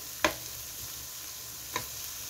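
Bitter melon stir-fried in a pan gives a steady low sizzle, with two sharp scrape-like knocks from stirring against the pan, close and without talk.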